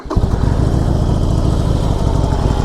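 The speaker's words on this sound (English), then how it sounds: "That's just a Sportster running, but it's making noise." Harley-Davidson Sportster motorcycle engine running close up, a loud, steady, lumpy rumble with a fast, regular mechanical clicking from the valves, alone without talk.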